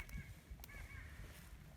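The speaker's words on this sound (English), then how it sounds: "I hear birds." Birds call in the distance around an abandoned rural cemetery, a few harsh caws and faint chirps over quiet outdoor ambience.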